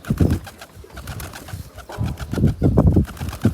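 Pigeons coo close by in low, throaty bursts, a few soft calls at first and then a denser cluster of overlapping coos.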